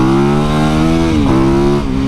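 A supermoto motorcycle engine runs loud and close, holding a steady buzzy idle-to-mid rev with a brief dip and pickup in pitch, no voices.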